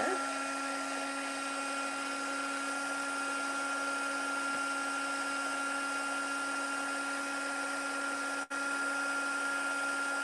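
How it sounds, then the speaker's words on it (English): Heat gun running steadily to melt embossing powder for a 3D embossed flower card, a constant high whining blower drone with a steady tone, close and fairly loud, one brief dip near the end. "I'm going to turn my heat gun on to warm up a little bit."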